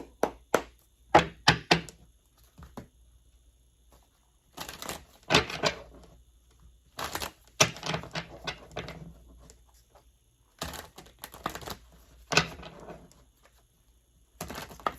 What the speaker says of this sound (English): Now these cards are so heavy, they do not want to talk. Give them some shuffles.